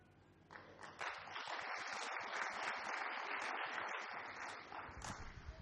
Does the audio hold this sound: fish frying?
no